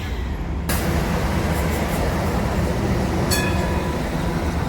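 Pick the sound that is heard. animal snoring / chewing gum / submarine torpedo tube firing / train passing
train passing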